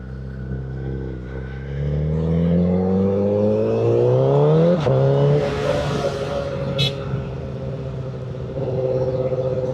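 A 1000cc motorcycle engine growls and revs close by, its pitch climbing steadily through the gears into a loud rising whine, then settling into a throaty rumble with a brief sharp click partway through.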